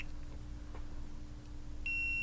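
A digital multimeter in continuity mode gives a single sharp, steady electronic beep near the end while probing an iPhone 7 logic board for a faulty NAND. The beep comes after a quiet stretch with low background hum.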